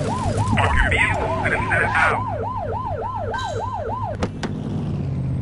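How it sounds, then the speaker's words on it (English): A police car siren wails in the video game The Precinct, a steady repeating rise-and-fall cycle close and loud over road and engine noise, stopping abruptly near the end with a couple of sharp clicks. "Get on that tail and flip the siren."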